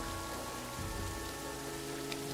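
Steady rain pattering on surfaces in All Quiet in the Trenches, a continuous even wash of drops with no voices.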